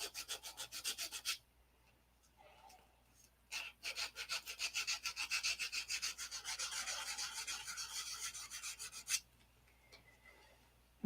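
Sanding a CA glue seal on a P-47 model aircraft part, close rhythmic back-and-forth rasping strokes in two steady bursts with a short pause between, no talk.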